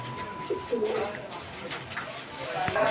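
Fancy pigeons coo in a loft, soft low murmuring coos recurring over a noisy background with faint chirps and some indistinct voices mixed in.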